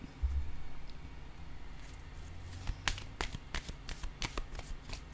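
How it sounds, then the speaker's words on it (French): Tarot cards are shuffled and drawn: a low rumble at the start, then a run of quick crisp riffling snaps and flicks, close and fairly loud. "Je vais piger une carte entre ces deux-là."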